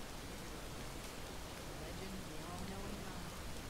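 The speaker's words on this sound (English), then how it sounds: "It sounds like it's raining inside." Rain patters indoors in the video game Relics of Hyrule: a soft, steady, even hiss that stays faint and unbroken throughout, with a low murmur of voice underneath.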